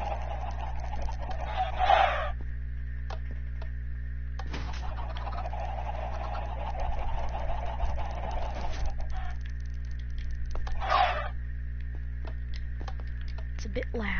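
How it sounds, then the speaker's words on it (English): Chickens cluck and squawk in bursts over a constant low electrical hum as a contraption sprays them out, loud flurries at the start, middle and end, with a voice talking alongside. "But then it fountains out chickens."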